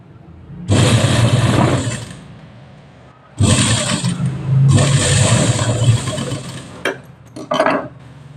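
Sewing machine stitching tread piping onto fabric, loud close motor whirring in three sustained runs separated by pauses, ending with short bursts.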